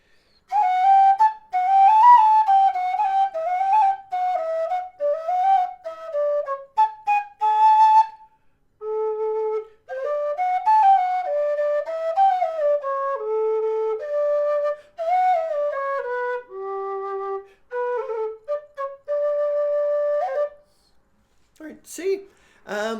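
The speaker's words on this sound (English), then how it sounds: "I'm going to play the second bit of the Aughrim with that little bit of bounciness to it so that you can hear this whistle performing on that." A Nightingale low D whistle plays the Irish tune The Aughrim, a clear, breathy melody with a bouncy lilt. Short phrases are separated by brief breath pauses, and a few faint sounds come at the end.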